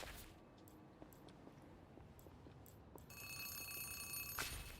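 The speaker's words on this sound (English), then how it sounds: "As you turn away, a phone begins to..." A telephone rings inside a video game, a thin electronic ringing with repeated bell-like pulses that swells and brightens partway through, heard quietly and alone.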